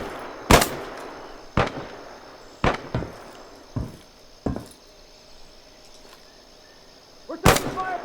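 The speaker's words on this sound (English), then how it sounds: "there's definitely a guy shooting from this direction" Gunfire from multiple directions during weapons training with a Steyr AUG, eight sharp single cracks spaced irregularly about a second apart, some louder and closer than others, over quiet background hiss.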